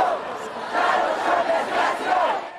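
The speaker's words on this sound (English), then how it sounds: "A huge crowd took to downtown Milwaukee tonight, expressing outrage over the presidential election of Donald Trump." A large anti-Trump protest crowd marching through downtown Milwaukee at night, a dense roar of many voices with rhythmic chanting surges rising and falling steadily throughout.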